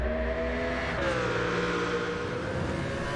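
Gran Turismo 7 GT2-class race car at Le Mans, its engine holding a steady high-speed drone with a clear harmonic whine that dips slightly in pitch midway, loud and continuous without talk.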